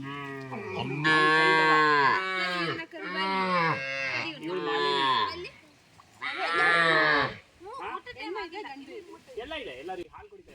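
Malenadu Gidda cows and calves at a cow shelter moo in several long, loud, close calls one after another, with softer lowing toward the end.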